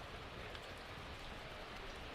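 Heavy rain pours steadily during a rain delay at a college Division III baseball conference playoff game, a dense continuous hiss with no voices.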